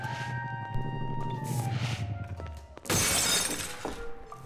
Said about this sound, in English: Who's smashing our windows?